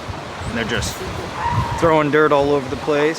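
Elephant seals on a California coastal beach give nasal, warbling barks and honks from fairly close by, while someone talks over them.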